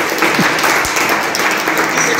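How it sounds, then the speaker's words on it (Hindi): A workshop audience at AISECT University claps loudly in a dense, sustained burst of applause that fills the whole moment, close and even. "एक बार के लिए जोर से ताली बजाएंगे।"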